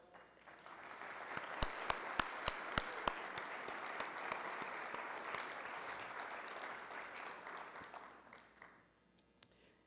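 An audience applauds at a Rotary Club of Denver awards ceremony with steady, sustained clapping from a room of people. A few sharper individual claps stand out, and the applause tapers off near the end.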